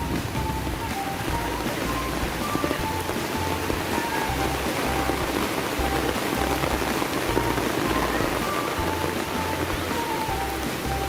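Floodwater rushes at Ta Nuek waterfall during Storm Noul, a dense roaring wash of water with steady hiss, continuous and close, broken by faint rhythmic low thumps.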